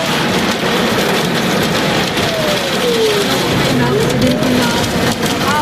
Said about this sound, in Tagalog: Grabing lakas ng ulan